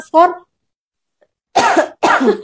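A single sharp cough near the start, followed by a pause and then people talking.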